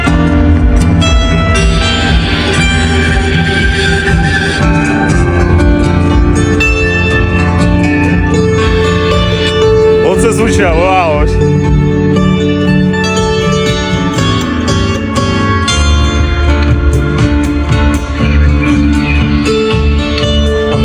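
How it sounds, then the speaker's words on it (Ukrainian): Loud bandura played with rich, ringing chords and quick runs, sounding full and continuous without talking. "Бандура може звучати, просто шок."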